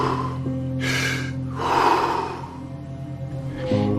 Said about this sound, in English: So I began to do my breathing.